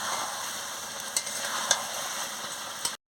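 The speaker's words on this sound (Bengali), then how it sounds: "ঢাকাটা খুলে আমি ভালো করে কষিয়ে নিচ্ছি" Chicken pieces being stir-fried kosha style in a pan sizzle in a loud, steady hiss close by, with a few clicks of the spatula stirring, stopping abruptly.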